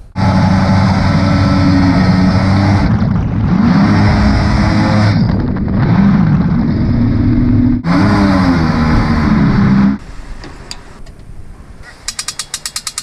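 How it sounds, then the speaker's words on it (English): A jet boat's engine roars loud and close in a steady, heavy drone that shifts pitch a few times, then cuts back to a lighter rattling idle with quick ticking at the end. "It's a perfect date going in the jet boat because it's so loud"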